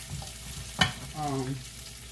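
Steak and vegetables are stir-fried in a hot oiled pan, with a close, brief sizzle broken by a sharp scrape of the utensil against the pan.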